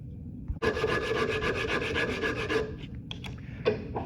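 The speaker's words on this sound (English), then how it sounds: "holding the sanding block on the angle so that it looks like it's going to touch both the lines at the same time" A sanding block rasps across a wooden handle held at an angle, a dense run of quick close strokes for about two seconds, then a few scattered scrapes and knocks.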